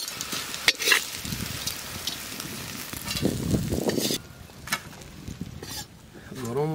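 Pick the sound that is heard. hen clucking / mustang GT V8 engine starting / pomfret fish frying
pomfret fish frying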